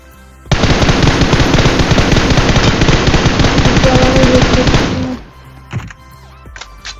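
Loud, sustained automatic gunfire from a video game, a dense rapid burst lasting several seconds that cuts off abruptly, followed by a few scattered shots and clicks.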